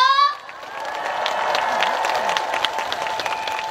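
Applause and cheering from a crowd at an outdoor trot music concert in Ulsan, a steady dense clapping roar that follows a brief tone at the start and holds for several seconds.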